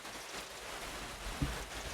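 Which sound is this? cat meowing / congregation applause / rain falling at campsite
rain falling at campsite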